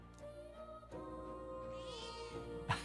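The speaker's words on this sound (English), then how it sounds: "Cat." A cat meowing in the video game Metaphor ReFantazio, one drawn-out meow rising over quiet background music, followed by a short sharp sound near the end.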